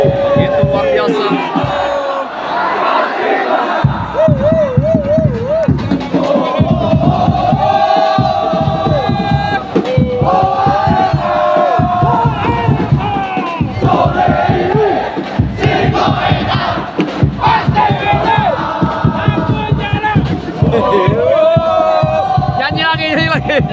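A packed crowd at Jalak Harupat stadium, during a football match between Oxford and Arema, chants and cheers loudly and steadily throughout the power outage, voices massed in rhythmic song with shouts rising above.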